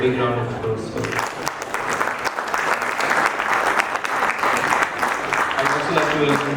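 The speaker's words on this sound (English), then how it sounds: "Please give a big round of applause for them." An audience at an alumni meet gives a big round of applause as guests come onto the stage. The clapping is loud and sustained, with a voice speaking just before it starts and again as it ends.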